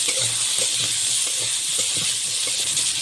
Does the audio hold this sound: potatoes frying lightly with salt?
yes